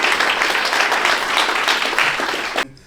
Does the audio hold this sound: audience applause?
yes